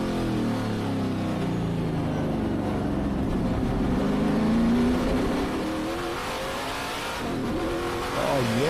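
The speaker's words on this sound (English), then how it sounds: "The sound of the thing, Dan, those NASCAR V8s are like nothing else." A NASCAR V8 race truck roars loudly around a racetrack at the Adelaide Motorsport Festival, its engine revving and its pitch sliding as it passes.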